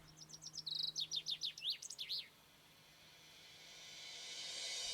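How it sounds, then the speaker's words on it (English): Birds sing in a forest of the Joux Valley on the high plateau above the Vaud plains, a clear run of rapid, repeated chirps and trills for about two seconds before fading into a rising hiss. "the trees as well as the birds raise their voices in song."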